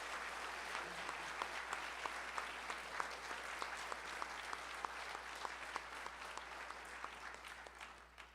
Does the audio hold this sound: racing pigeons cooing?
no